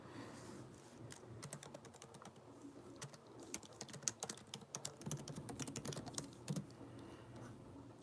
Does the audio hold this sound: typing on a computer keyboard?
yes